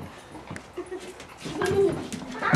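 A puppy whimpers and yips softly at close range on Halloween, its thin whines rising toward the end, while people talk quietly in the background.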